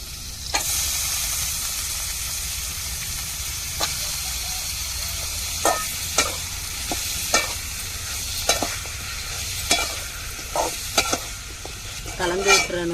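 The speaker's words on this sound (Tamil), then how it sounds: "இந்த கருவாட்டை சேர்த்துருவோம்." Cut, washed pieces of dried fish tossed into a pan of frying shallots, giving a continuous loud sizzle broken by sharp spatula scrapes and clacks as the mixture is stirred, heavier toward the end.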